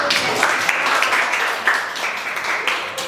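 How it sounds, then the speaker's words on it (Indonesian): Audience at a school language-month event applauding the invited schools, a steady wash of clapping from many hands lasting a few seconds, with no voices over it. "Boleh dong tepuk tangan dulu."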